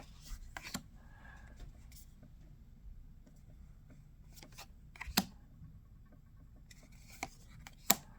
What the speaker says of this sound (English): Opening up some cards.